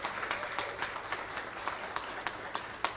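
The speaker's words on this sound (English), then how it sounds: "Give her a round of applause as well." Audience applause at a free tax preparation event in Los Angeles, moderately quiet steady clapping from a crowd with a few sharper individual claps standing out.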